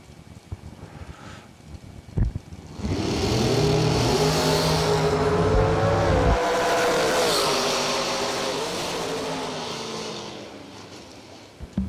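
Door-car drag racers launch hard off the line at a drag strip, a loud engine roar that swells suddenly, stays heavy and sustained for several seconds, then slowly fades as the cars pull away.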